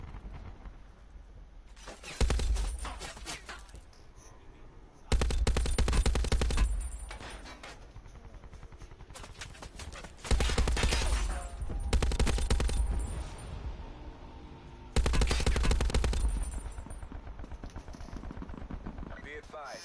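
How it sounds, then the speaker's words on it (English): Bursts of heavy automatic gunfire in a video game, four loud sustained volleys of a few seconds each, separated by quieter stretches with a player talking over them. "Why are you shooting me?"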